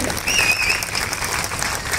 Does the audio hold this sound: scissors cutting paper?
no